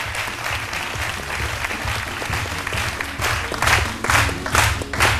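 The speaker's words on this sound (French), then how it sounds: "Je vous demande de l'applaudir très très fort." A studio audience on the set of the RTI 1 midday show C'midi applauds steadily for the whole stretch, a dense, even wash of clapping that swells toward the end.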